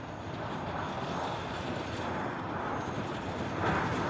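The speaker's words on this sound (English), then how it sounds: "Next departure on 8 left should be that Southwest down there" Southwest airliner departing runway 8 left in Honolulu, a distant steady jet roar that swells slightly toward the end.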